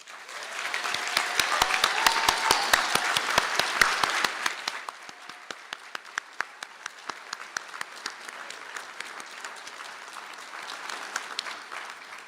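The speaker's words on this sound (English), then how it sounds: "to stand for a round of applause" Audience applause at a university conferring ceremony in Galway, loud and dense at first, then thinning after about four seconds into scattered individual claps that continue to the end in a large hall.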